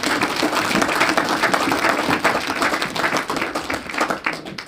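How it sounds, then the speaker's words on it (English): A church congregation at a 2023 pastor conference bursts into loud, dense hand clapping that runs continuously without a break. "Let's give a Lord a hand clap."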